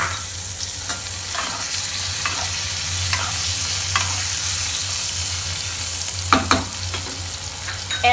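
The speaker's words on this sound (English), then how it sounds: "Now add the gobi or cauliflower" Cauliflower goes into hot oil with crackling cumin seeds, giving a steady, close frying hiss. Repeated spoon-stirring taps run through it, with a louder clatter near the end and no talk.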